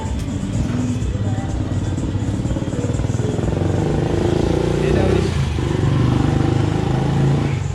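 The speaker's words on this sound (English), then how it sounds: "Motorcycle noisy." A motorcycle engine rumbles and revs nearby in the beach town of Tolú, Colombia, loud and steady, with voices talking faintly underneath.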